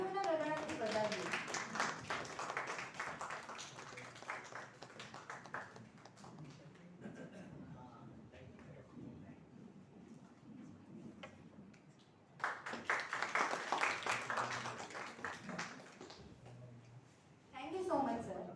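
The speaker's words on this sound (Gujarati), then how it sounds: "તાળીઓના ગગડાટથી વધાવીએ." Audience at a university workshop ceremony breaks into applause in two rounds of dense, steady clapping from a roomful of people, heard moderately loud in a hall with speech between them.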